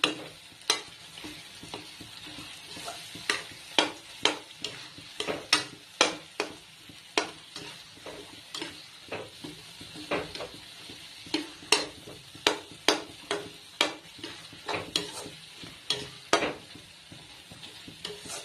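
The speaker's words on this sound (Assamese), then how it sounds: "অলপ আলুখিনি ভাজি দিম" Potatoes frying in hot oil with a soft continuous sizzle, punctuated by frequent sharp scrapes and clinks of a spatula stirring against the pan in an irregular rhythm.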